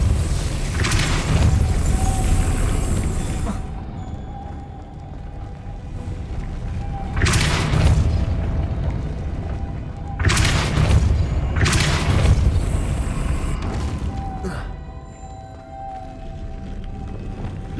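In Hogwarts Legacy, a Depulso spell is cast several times in a row, producing loud booming bursts with whooshing tails at irregular intervals over a low, continuous ambient rumble.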